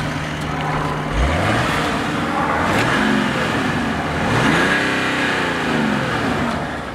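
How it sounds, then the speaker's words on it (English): A car engine is revved hard several times in quick succession, its note climbing and falling in repeated sweeps, loud and close with no voices over it. "Well, that was me really revving it,"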